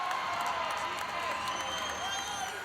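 A netball crowd at a youth world cup match cheers and applauds, a dense, steady wash of clapping and whoops held at an even level throughout.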